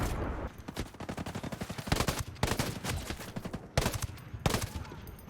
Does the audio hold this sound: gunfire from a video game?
yes